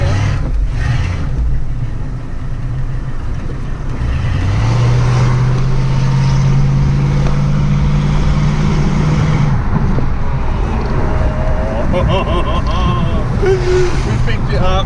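A 1969 Mustang convertible with a louder exhaust revs and pulls away, a rising engine drone building over several seconds, close and loud beneath excited voices talking throughout.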